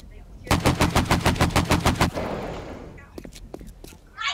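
Gunfire in the shooting game Training Arena 3.0: a loud, close burst of rapid automatic fire lasting about a second and a half, then a tail of decaying rumble and a few scattered fainter shots.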